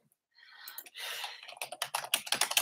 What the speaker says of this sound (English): type a little typing ASMR now